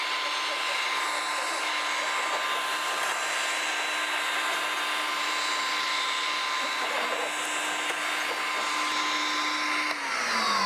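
A floor polishing machine runs steadily on a wet surface being treated with Majestic XXX Shine polishing powder, a loud continuous whirring drone with a faint steady hum, ending with a slight drop in pitch near the close.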